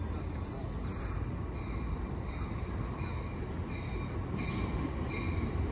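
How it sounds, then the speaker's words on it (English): Amtrak San Joaquin train 714, bound for Bakersfield, arrives at Emeryville station with a cab car leading, its steady rumble and wheel noise loud and continuous throughout. "here comes Amtrak. San Joaquin bound train 714"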